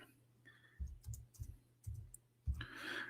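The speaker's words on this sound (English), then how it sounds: "Oops, got typing. Excuse my keyboard." A computer keyboard clicks in a few quiet, irregular keystrokes and short bursts of typing, heard close and faint with no one talking.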